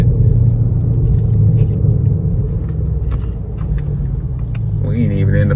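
Straight-piped 2017 Camaro SS cruising at night with a loud, steady low exhaust rumble throughout, scattered sharp pops and crackles, and a brief rising engine note near the end.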